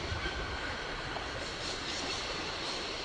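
Steady rumble of a spring-wound clockwork locomotive in the Syberia adventure game, a continuous rolling rail drone with faint wheel clatter, even and unbroken throughout, with no voices.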